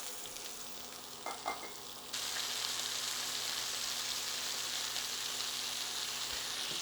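Pork chops sizzle in a hot frying pan, a loud, steady crackling hiss that jumps in intensity after a couple of seconds and keeps going close up, with a few light clinks early on.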